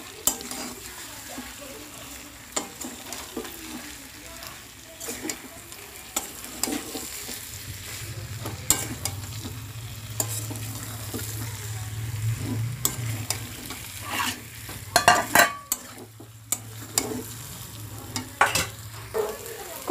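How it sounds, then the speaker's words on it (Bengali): Mutton and potatoes sauté in a pan while being stirred, giving a steady sizzle under repeated scrapes and clinks of a spoon against the metal. The sounds are loudest in a burst of knocking partway through, and no one speaks. "এবার কষানো মাংসের মধ্যে আলুগুলো দিয়ে দিলাম আলু দিয়ে আরেকটু কষাতে হবে"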